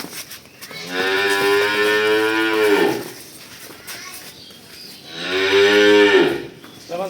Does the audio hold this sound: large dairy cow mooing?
yes